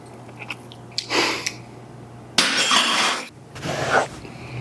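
Chewing on a soft, rich jalapeno popper egg bite topped with sour cream and jalapeno slice: a light tap, then close, wet mouth sounds in two chewing bursts with a short pause between, no talking.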